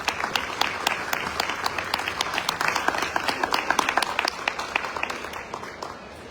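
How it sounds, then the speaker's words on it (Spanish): Audience applause for students at a book collection launch, a sustained crowd clapping with crisp individual claps standing out, fading slightly toward the end. "Muchos aplausos para ellos,"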